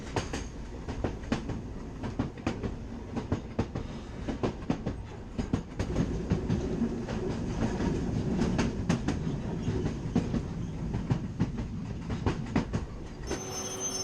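A Caledonian Sleeper train rolls along the line into Rannoch station in the Scottish Highlands, a steady rumble with repeated clickety-clack wheel beats and sharp rail clicks, close and continuous throughout.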